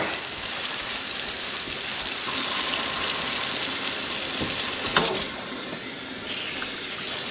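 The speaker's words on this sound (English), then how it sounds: "let's get our sink full of water here" Tap water runs steadily into a kitchen sink with a broad rushing hiss, a few clunks near the end and the flow easing slightly afterward.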